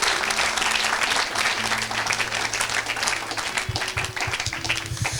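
A church congregation gives sustained applause, a dense wash of many hands clapping at steady loudness throughout, with a few voices mixed in.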